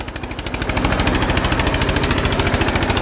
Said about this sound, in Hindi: अभी रमा नहीं हुआ ना ट्रैक्टर खड़ा जा रहा भाई